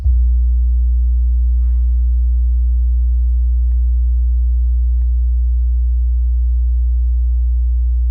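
A steady, loud low-pitched 60 Hz sine test tone from an LG XBoom speaker hums continuously without a break, with only a faint click or two in the background.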